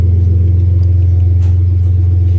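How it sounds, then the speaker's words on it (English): A deep, loud car engine with a new dual exhaust rumbles steadily at close range, a low throbbing drone with no talking. "We'll give it a couple revs."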